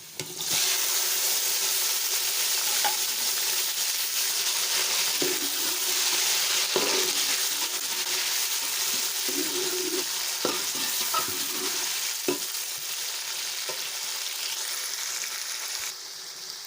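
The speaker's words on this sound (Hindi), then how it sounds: "प्याज और फ्राई होना शुरू हो गया।" Onions and tomatoes fry in a pot for pulao, giving a continuous bright sizzle with intermittent scraping and stirring clatters, close and steady, with no voices.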